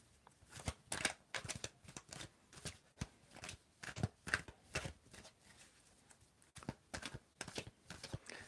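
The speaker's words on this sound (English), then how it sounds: "So I'm going to start shuffling, and then you are going to tell me when to stop shuffling." Tarot cards shuffled by hand in quick, soft bursts of riffling and slapping, repeated with short pauses, close and fairly quiet with no talking.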